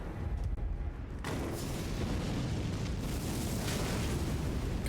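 A sustained, loud roar of fire from a boss attack in Elden Ring, with an abrupt burst near the start that then rumbles on steadily without a break and with no talk over it.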